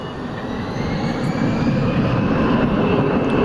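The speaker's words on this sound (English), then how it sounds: "Got an Airbus A320 headed out." Airbus A320 jet departing DFW Airport at night, a steady broad engine roar that swells slightly and holds loud throughout, no voices.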